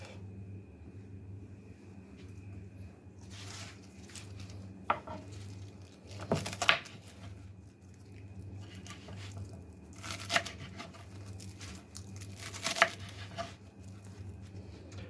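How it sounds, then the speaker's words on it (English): Vegetables being chopped for a meatball and vegetable soup, scattered knife strikes and rustling handling sounds in a few short clusters over a low steady kitchen hum, with no talking. "Everything else we are going to chop up."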